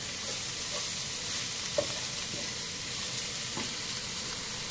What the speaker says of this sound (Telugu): ఇప్పుడు ఈ బౌల్లో ఉన్న వంకాయ ముక్కలన్నిటిని నేను వేసి కలుపుకోవాలి.